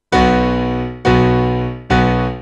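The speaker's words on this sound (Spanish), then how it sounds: "ese sonido de piano también que es un poquito rollo honky tonk" Three bright, twangy honky-tonk piano chords ring out one after another at a steady pace, each sustaining with a sharp attack, no voices.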